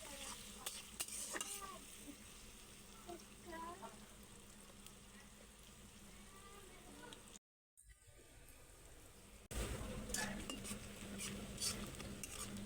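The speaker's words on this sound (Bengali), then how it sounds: "পেঁয়াজটা ভালো করে নাড়াচাড়ার পর পেঁয়াজটা একটু ভাজা ভাজা হয়ে এসেছে।" Chopped onions frying in a pan for a Hilsa fish and bottle gourd greens dish, with steady sizzling and repeated scraping stirs that stop briefly partway, then return louder.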